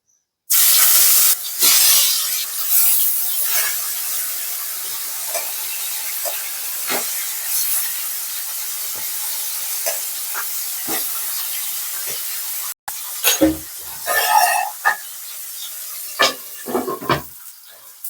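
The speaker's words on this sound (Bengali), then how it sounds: "তো চলো মাছটা ভেজে নেব আমি যেটা ম্যারিনেট করে রাখা আছে ফিশটা" Marinated fish frying in hot mustard oil, a loud steady sizzling hiss that starts abruptly and carries on throughout, with intermittent pops and spatters growing busier toward the end.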